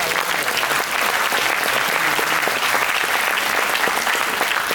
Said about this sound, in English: Let's have a big applause again.